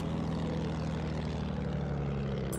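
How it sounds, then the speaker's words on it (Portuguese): A bomber aircraft passes over in the World War I video game Battlefield 1, its propeller engines making a steady, even drone that holds at moderate volume throughout. "Agora vem o bombardeiro."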